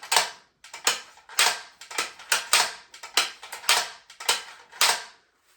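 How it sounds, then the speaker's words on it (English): A rifle bolt slammed closed again and again with the safety off, about a dozen sharp metallic clacks in an even rhythm, close and loud, with brief silences between. "take the safety off and you want to slam close the bolt"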